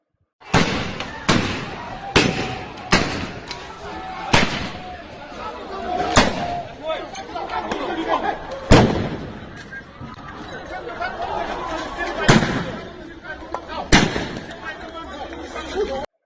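Sharp gunshot-like cracks ring out one at a time at irregular intervals during unrest in Manipur, loud and echoing over a steady bed of crowd noise and chatter.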